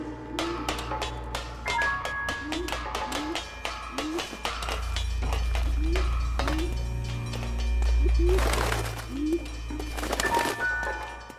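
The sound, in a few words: pigeons cooing in the video game LA Noire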